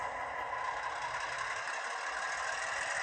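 An MP15 locomotive sound system plays engine noise throttled up to notch 4, a steady, faint droning hum with a constant whine that holds evenly throughout, with no speech.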